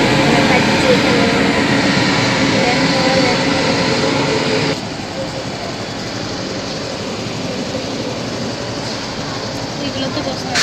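A train runs along a railway line near a tea garden, a steady broad rumble that is loud for the first half, then drops to a quieter continuous roar after a sudden cut.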